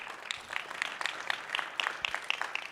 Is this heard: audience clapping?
yes